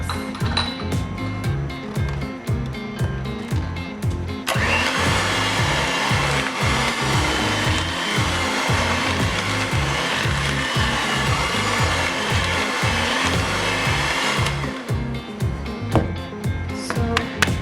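Crushed and sliced walnuts being folded into date cake batter, a continuous rhythmic scraping and thudding of the mixing, close and loud, with a brief clink at the start and no talking.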